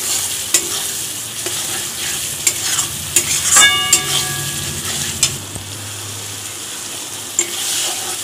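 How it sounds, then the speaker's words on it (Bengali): A splash of water hits hot, sizzling fried masala with prawns for a Bengali potato and pointed gourd curry, hissing up briefly over steady frying, with the scrape and knock of a spoon stirring the pan at intervals. "এবার একটু জল দিয়ে দেব"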